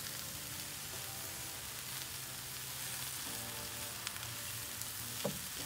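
Food browning in oil in a pan while a T-bone steak meal is cooked, a quiet, steady sizzle with scattered pops and a small clack near the end, no voices.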